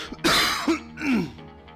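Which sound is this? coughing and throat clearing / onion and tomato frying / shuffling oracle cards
coughing and throat clearing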